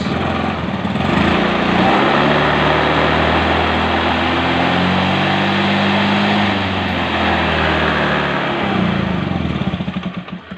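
A motorcycle engine revs under throttle during a charging system check, loud and close, rising into a sustained buzzing roar that holds steady before easing off and sputtering down near the end.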